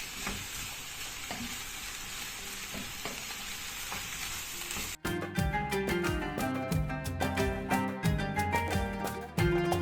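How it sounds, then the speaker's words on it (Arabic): Sliced peppers sauté in oil in a pot, a steady sizzle and frying hiss for the first half, then a cut to a busier, brighter stretch with clinks and stirring over the continued sizzle, fairly close and loud. "دابا غنشحروا الفلفله ديالنا، غنزيد شويه ديال الزيت حيت الفلفله تطلق الماء"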